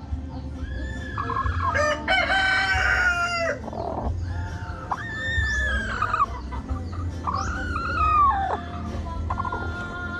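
Several roosters crow in turn, long drawn-out calls overlapping against a steady background of clucking hens and farmyard noise.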